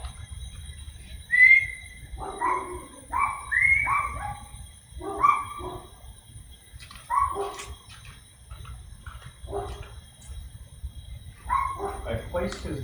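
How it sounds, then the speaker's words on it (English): A dog barks from across a street in Houston, Texas, sounding distant amid a steady low rumble of traffic; the barks come in irregular bursts with short pauses. "I placed his bark as coming from across the street."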